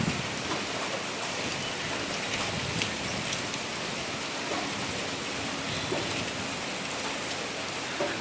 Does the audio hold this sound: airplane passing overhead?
no